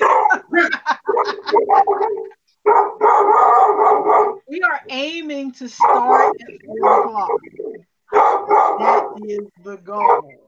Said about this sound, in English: Oh, sorry, that is my dog.